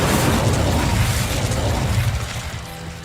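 A loud, sustained roaring blast from an Incendio fire spell in Hogwarts Legacy, full and broadband, holding steady for most of the moment before easing off slightly at the end.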